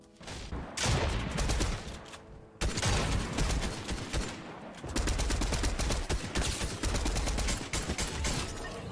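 Rapid SMG gunfire in Fortnite, loud dense bursts of automatic shots with brief pauses between volleys, plus scattered impacts and game effects over nine seconds.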